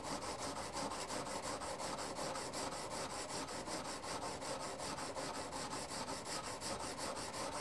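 Blade rubbed back and forth on a sharpening stone to remove scratches, a dense continuous rasping with a quick regular stroke rhythm, close and steady throughout with no talking.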